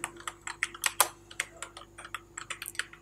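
Typing on a computer keyboard while entering a browser search, quick irregular clicks and taps in uneven bursts, close and fairly quiet, with no talk.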